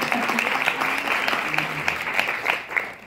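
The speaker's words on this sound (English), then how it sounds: "You can clap on that." Audience applause at a talk with Matisse Khan-Cullors and Asha Bandele, a steady crackle of many hands clapping throughout, fairly close and full, with some voices mixed in.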